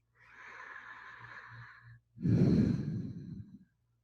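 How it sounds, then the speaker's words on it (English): Slow, deep yogic back body breathing: a long, soft inhale is followed after a brief pause by a fuller, louder exhale that trails off. Both breaths are close and alone, with no voice over them. "This is back body breathing."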